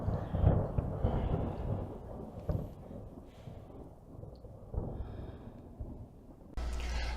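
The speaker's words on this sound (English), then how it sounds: "It's just a storm." A film thunderstorm rumbles with low, heavy thunder that swells and fades over a dark, hissing background, fairly faint overall, with a brief louder burst near the end.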